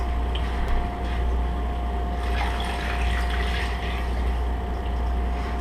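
Water poured from a salad bowl into a cooking pot, a steady continuous rush and trickle held at an even level throughout, close by with no voices.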